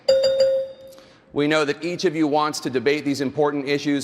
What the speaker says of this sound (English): a bell will also sound like this